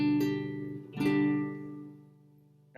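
Two guitar strings sounded together as a chord, plucked twice in succession and left ringing, the second strum sustaining and slowly fading before a faint final pluck.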